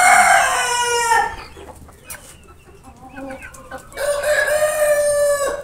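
An Aseel chick gives loud, high, rapid clucking and cheeping calls in two bursts separated by a quieter stretch of softer chirps, close to the listener with no talk.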